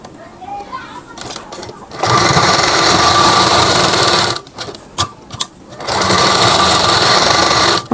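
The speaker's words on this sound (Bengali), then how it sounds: "তো সেলাই স্টার্ট করলাম।" A sewing machine stitches salwar fabric in fast, loud bursts, running for a couple of seconds, pausing briefly with a few clicks, then running again, close up, with a voice speaking in the background.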